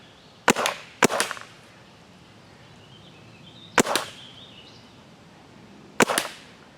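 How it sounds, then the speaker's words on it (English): A paintball marker shooting DEFY tournament paintballs at gear, four sharp snapping shots, the first two close together, then two spaced a few seconds apart, each with a quick splat right after. "let's take a shot at some actual gear and see how the tournament paint marks."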